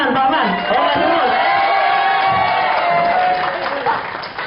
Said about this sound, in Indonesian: Yang berikutnya kasih aplaus untuk Pak Man.